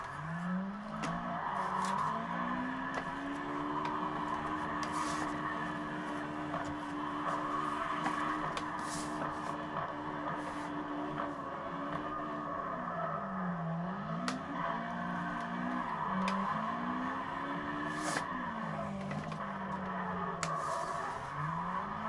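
Tire squeal from a car drifting in the video game CarX Drift Racing, a steady wailing screech that bends up and down in pitch over a constant engine drone, with no talk.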